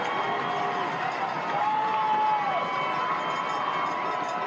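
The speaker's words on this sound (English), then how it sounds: "Buffs crowd making some noise." A Buffs home crowd at a West Texas A&M football game makes noise, a steady distant roar of cheering and clapping from the stands, with a brief voice rising above it.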